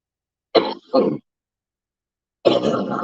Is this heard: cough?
yes